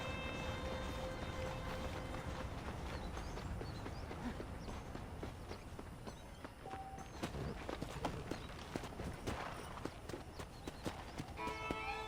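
Horse hooves clip-clop steadily in Red Dead Redemption, a continuous close walking rhythm of hoof strikes over a constant ambient bed, with a brief faint whinny-like tone partway through.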